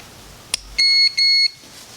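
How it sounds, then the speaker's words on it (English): Cellink B dashcam battery emitting two short, loud electronic beeps in quick succession after a click as its power is disconnected in a car. "Every time power gets disconnected, it also beeps."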